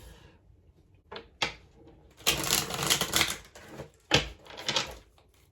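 Tarot cards are shuffled in a few quick bursts of riffling and sliding, close and crisp, with short pauses between them.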